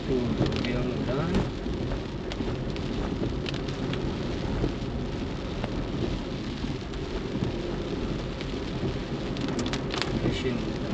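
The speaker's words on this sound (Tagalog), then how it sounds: "Ito, yung ulan." Steady heavy rain with rolling thunder, a continuous dense roar of downpour on surfaces with low rumbles throughout, outdoors in Brgy. Vista Alegre, with faint voices in the background.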